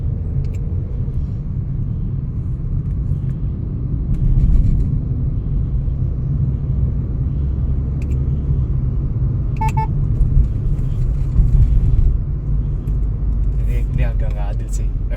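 Steady low engine and road rumble from inside a Suzuki Fronx on a test drive, continuous and moderately loud throughout, with faint intermittent voices.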